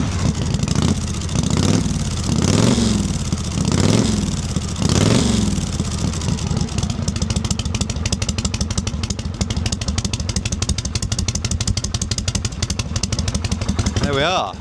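A 1978 Harley-Davidson Shovelhead 1200cc chopper engine revs loudly in several sharp blips over the first five seconds, then settles into a steady, lumpy idle at close range, with no talk over it.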